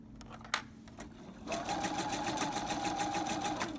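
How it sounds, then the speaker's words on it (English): A sewing machine running a basting stitch along a fabric seam starts up after a few soft handling clicks, then whirs in a fast, even mechanical rhythm, close and steady to the end. "now we're going to just sew along right here with your basting stitch"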